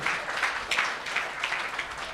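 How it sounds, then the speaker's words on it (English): An audience at a charity auction event in Johannesburg claps in a brief, moderately distant burst of applause. "Give the man a big round of applause."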